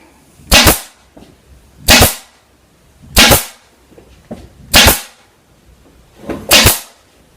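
A staple gun fires into padding batting being fastened onto a cornice: five sharp, loud snaps spaced roughly a second and a half apart, each a crisp metallic crack with a short tail, and no talking in between.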